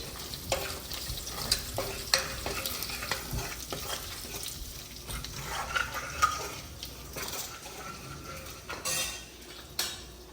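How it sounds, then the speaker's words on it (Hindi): Cumin and whole dried red chillies fry in oil in a pot, with a continuous sizzle and frequent scraping and clinking of a spoon against the metal, close and fairly loud, and no voices. "जीरा हमारा भून गया है"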